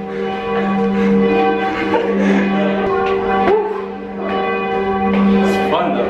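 Cologne Cathedral's church bells ring loudly and close, with sustained overlapping tolls and a rich humming resonance. Voices talk briefly beneath the ringing.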